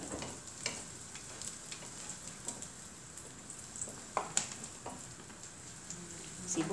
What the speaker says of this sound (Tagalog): Magigisa na siya ng bawang.